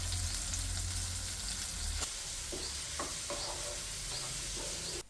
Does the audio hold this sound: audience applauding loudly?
no